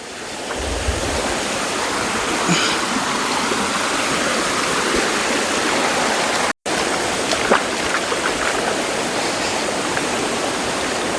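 A forest stream near the Karregutta hills, fed by rainwater runoff, flows steadily with a continuous, fairly loud rush of water. There are no voices.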